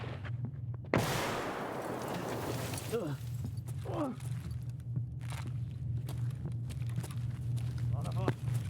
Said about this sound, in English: Enemy frag!